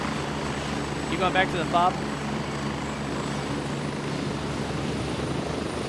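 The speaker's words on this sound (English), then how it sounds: "I think this guy called in a helicopter" A helicopter in the game Gray Zone Warfare drones with a constant rotor and engine hum near the listener, with a brief spoken question rising above it.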